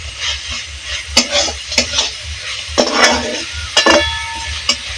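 Cashews and raisins fry in a pan with a steady close sizzle while a spoon stirs them, sharp metallic scrapes and clinks landing at irregular intervals.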